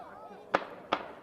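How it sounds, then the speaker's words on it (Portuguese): Two sharp gunshots crack about a third of a second apart in news footage, each a loud isolated burst over quiet background. "ouvem-se vários tiros"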